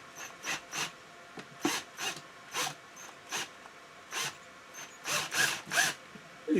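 A power drill drives a rounded hook into a ceiling for bicycle wheel storage, in a string of short whirring bursts with brief pauses, close and fairly loud.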